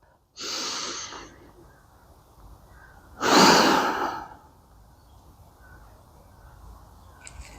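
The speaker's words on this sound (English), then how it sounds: "Rotate the thumb back and breathe deep." Two deep, audible breaths during a yoga stretch, each a long airy exhale or sigh lasting under a second, close to the microphone, with quiet pauses around them and no talking.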